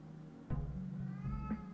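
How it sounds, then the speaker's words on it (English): A cat meows several times in drawn-out, wavering calls, fairly close and clear over a low background hum, with no talking. "There's a kitty cat."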